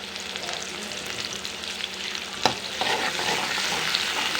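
Onions go into a pot of dal and get stirred, giving steady close sizzling and scraping with one sharp knock midway, and no talking.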